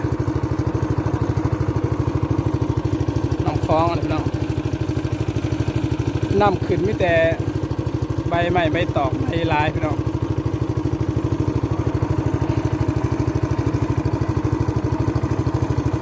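A steady motor drones loudly and evenly throughout, like a small boat engine running on the Mekong River, while someone speaks over it in bursts.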